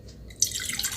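Water is poured out for a drink, a short close trickle that begins faintly and swells into a steady pour.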